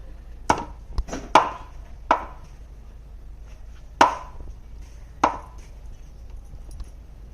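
A knife chops through fresh surmai (kingfish) in six sharp, separate thwacks spaced irregularly over several seconds, close and loud, with quiet pauses between strikes.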